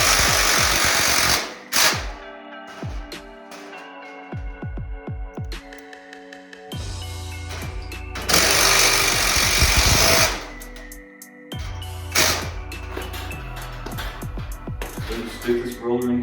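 A power tool drives bolts into a garage door hinge on an extension spring system, sounding in loud rattling bursts of several seconds each, broken by short pauses and lighter clicking.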